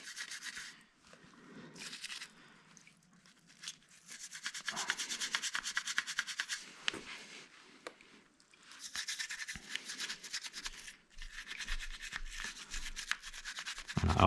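A brush scrubs motorcycle brake calipers clean in repeated bristly strokes, coming in quiet close bursts with brief pauses between them.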